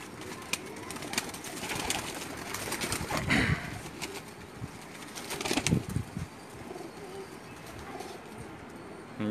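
Lakha pigeons coo softly in a loft, with occasional wing flaps and scuffles rising over a constant low background murmur.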